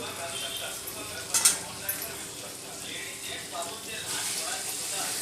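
Black masala paste goes into a hot pan for a crab curry, hissing and sizzling steadily along with clinks of a spoon against the pan and stirring scrapes, while a person talks over it.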